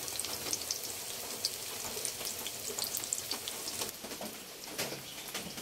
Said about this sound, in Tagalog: Prito ko na po mga kababayan